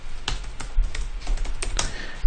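Quick keystrokes on a computer keyboard, a short burst of close, clicky taps in an irregular rhythm, with no voices.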